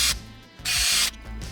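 Power driver with T20 Torx bit running a steel screw into a small combat robot, in short buzzing bursts with brief pauses, close and fairly loud.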